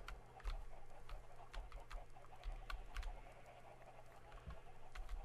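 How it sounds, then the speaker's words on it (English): Soft clucking from chickens in the Minecraft video game, scattered short calls over a steady low background hum, fairly quiet and close with no talking. "Why is there chickens in here?"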